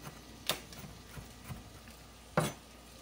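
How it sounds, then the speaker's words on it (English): A knife chops food on a board while shrimp are prepared, giving sparse, faint, irregular knocks and taps, including a few sharper hits, over a quiet background with no talking. "But you just keep going around chopping it."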